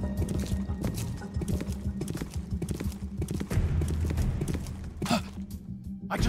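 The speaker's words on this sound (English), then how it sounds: "I just heard footsteps." Footsteps in Metal Gear Solid: Peace Walker make a run of soft, rhythmic thuds and clicks over a dense game soundscape, moderately close and without speech.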